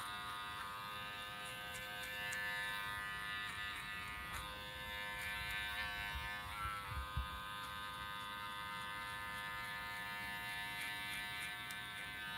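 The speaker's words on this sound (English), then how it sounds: "push down a little harder on the clipper to get those hairs to lift up so that the clipper can cut them" Electric hair clipper cutting a boy's hair, a steady close buzz with a thin whine that dips and shifts slightly as it presses and moves through the hair, with no talking.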